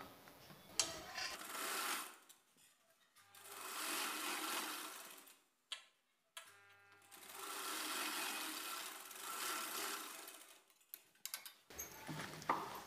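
Sewing machine stitching a blouse in bursts of rapid mechanical whirring and ticking, several runs of a few seconds each with brief pauses and clicks between, close and fairly quiet.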